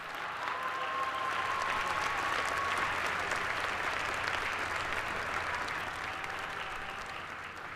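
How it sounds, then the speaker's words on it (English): A large crowd applauds steadily at a dual enrollment ceremony, the clapping dense and even throughout, heard from a moderate distance with a faint ambient wash and no speech. "Let's give them all a big round of applause."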